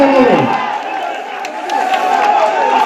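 Spectators at a sports match clap and cheer in a steady, dense wash of crowd noise with a few voices calling out over it.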